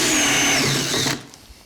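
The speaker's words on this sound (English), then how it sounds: "I'm just going to drill a hole in it now" Power drill with a step bit boring a hole through the metal wall of a portable oil tank, a loud steady whining grind lasting about a second before cutting off abruptly.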